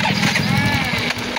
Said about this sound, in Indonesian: Nah, motornya kan sulit dihidupkan.